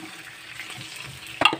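Broth poured into a frying pan of cooking food makes a soft sizzle and stir, quiet at first and then a sharp brief hiss near the end.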